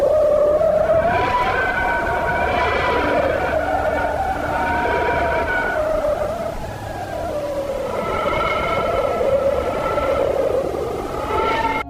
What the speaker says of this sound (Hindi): ये ऑडियो सूर्य के थोड़ा और करीब जाकर वहाँ पर गैसों में आने वाले परिवर्तन से रिकॉर्ड की गई है